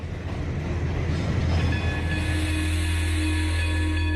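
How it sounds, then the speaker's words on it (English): A train rolls past, a steady loud rumble of rail cars with rhythmic rail clatter and high metallic squeals and hums, heard on its own with no voices. "I saw a train coming down."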